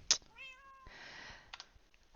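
Several cats in a Minecraft survival world meow in short, separate calls: one clear drawn-out meow, then softer scattered mews, fairly close and quiet, with no talk over them.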